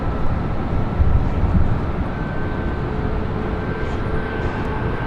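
A jet airplane taking off from the north side at LAX, a loud broad roaring rumble that holds steady, heavier at first and then easing slightly, with no talk.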